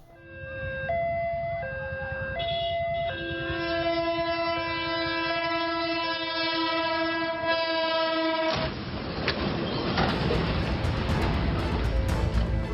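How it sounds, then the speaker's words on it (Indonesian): A Putri Deli passenger train's horn blares with long, loud sustained tones, shifting pitch, over rumbling engine noise; partway through, a sudden broadband crash and grinding noise takes over as the train hits a truck. "kereta api Putri Deli datang sambil membunyikan suara klakson panjang dan menabrak truk"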